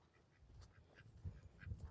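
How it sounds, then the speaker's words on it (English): Faint, distant ducks quack in scattered short calls over low rumbling background noise on a rainy day. "and a goose, more ducks."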